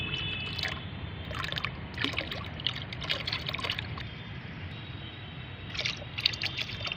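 Mustard cake fertilizer liquid poured into a bucket holding nine litres of water, a steady soft trickling and splashing that runs for several seconds at low level.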